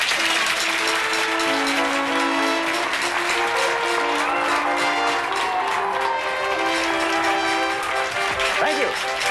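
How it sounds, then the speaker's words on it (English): An audience applauds after a stage illusion where a person is cut in half and restored, in a 1983 PBS Reading Rainbow episode: a loud, continuous roar of clapping with sustained musical tones running beneath it throughout. "Stand right up and take your well-deserved round of applause."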